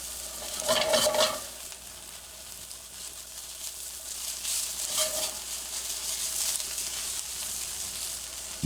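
Chorizo frying in a skillet as its fat renders into oil, a steady close sizzle throughout with a louder burst of stirring and spatula scraping near the start and again around the middle, no talk.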